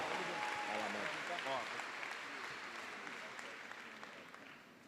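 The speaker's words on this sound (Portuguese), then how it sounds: "Aplauda mais uma vez esse casal abençoado." Audience applause at a church conference, a thick, lively burst of clapping that gradually fades, with a voice speaking over it near the start.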